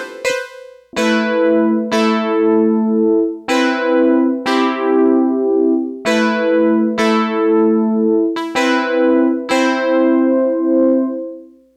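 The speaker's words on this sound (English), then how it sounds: "and I'm using the DX7, the preset 28." Yamaha DX7 synthesizer on preset 28 plays a verse part from a song: bright, plucked-bell notes struck in a steady rhythm of chords with short decays, loud and alone.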